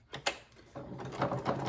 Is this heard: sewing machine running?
yes